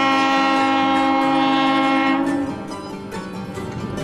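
A scenic mountain railway train climbing through high country over trestles, heard as a loud steady rumble and rolling drone with sustained horn-like tones, easing slightly toward the end.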